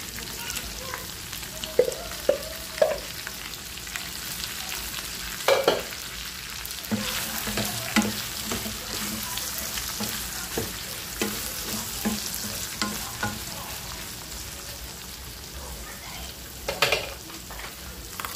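Chopped bottle gourd (upo) stir-frying in a hot pan, with a steady sizzle under repeated scraping and clanking of a spatula against the pan, loud and close, with no talk.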